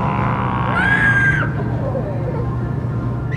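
A child lets out one short, high-pitched scream inside Super G Mart, a supermarket in Charlotte, rising sharply and then breaking off against steady store background noise.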